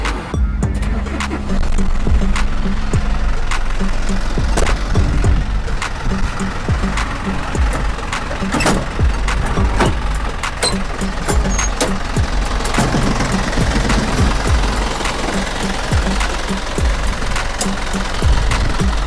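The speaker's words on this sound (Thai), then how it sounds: "เดี๋ยวพร้อมจะติดเครื่องให้ฟัง" A Hino Mega 500 truck, a 2013 model rated at 175 horsepower, idles with its diesel engine running, a loud steady rumble with knocking and clatter throughout.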